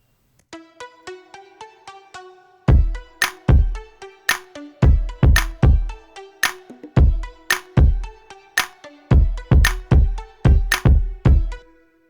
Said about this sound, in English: Now for the verse, I came up with this drum groove.